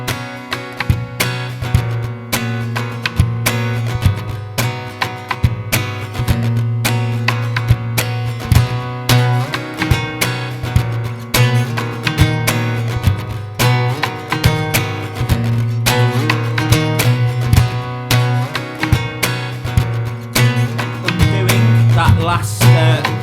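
Looped electric guitar parts layer into a steady, full repeating pattern playing a song, dense and continuous for over twenty seconds with no talking.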